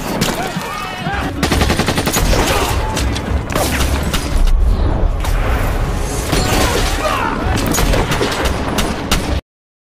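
Dense, rapid gunfire in a film battle rattles almost continuously, with bursts of automatic fire and heavy booms layered over a loud battle din, ending abruptly.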